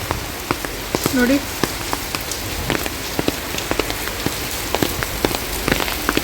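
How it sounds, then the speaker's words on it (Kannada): Heavy rain falls on a festival day at a village fair, a dense, even patter with distinct drops striking a nearby surface throughout, and a voice speaks briefly near the start. "ಸಿಕ್ಕಾಪಟ್ಟೆ ಮಳೆ ಬರ್ತಿದೆ ನೋಡಿ ಗೈಸ್"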